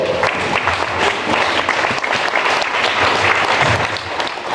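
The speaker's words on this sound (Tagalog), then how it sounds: "Isang palakpak nga para sa Panginoon. Habang tayo pumapalakpak, tumatayo tayo." Congregation at a church service clapping for the Lord, a loud, dense, sustained round of many hands from start to finish, with no talk over it.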